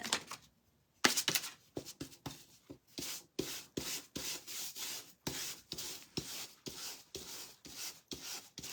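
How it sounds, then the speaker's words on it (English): Repeated scraping strokes strip wax and white paint from a brown-based craft piece, a steady run of about a dozen rasping scrapes after a brief pause, close and alone. "you scrape off the it takes the wax off and you see the brown underneath"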